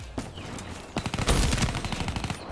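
A 1911 pistol in a first-person shooter, fired in rapid full-auto style through a modded controller or macro, gives a loud, dense burst of closely spaced shots lasting about a second and a half, alone without talk.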